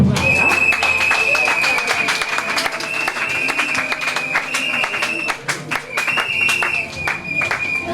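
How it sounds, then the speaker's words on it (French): A church congregation applauds continuously for the full stretch, dense close clapping alongside a sustained high tone. "Est-ce qu'on peut applaudir encore très fort pour le roi des rois?"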